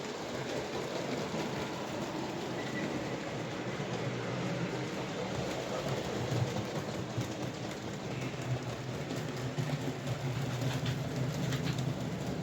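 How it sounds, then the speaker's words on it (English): A model train locomotive hauls a mixed rake of coal wagons around a layout. It gives a steady, even running rumble throughout, moderately close and without speech. "It's hauling my usual mixture of assorted coal wagons that I've still to get varnished"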